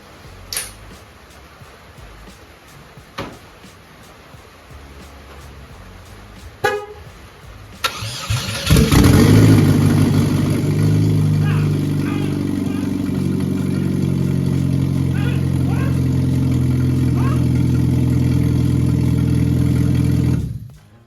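A barn-built car engine cranks and catches after a few faint clicks and a short horn toot, then settles into a loud, steady close idle that runs for more than ten seconds before stopping abruptly.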